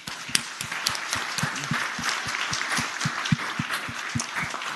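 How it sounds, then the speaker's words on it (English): Applause in the Virginia Senate chamber, many hands clapping steadily for several seconds with some louder individual claps standing out near the front. "Let's give them a round of applause."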